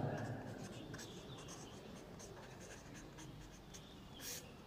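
Chalk or marker scratching across a classroom board in short strokes, steady and close, with low room noise throughout.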